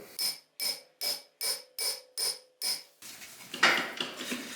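Seven sharp, evenly spaced metallic hammer blows strike a stuck 35-year-old front brake rotor on a C4 Corvette, each ringing briefly, followed by a scrape and some clatter.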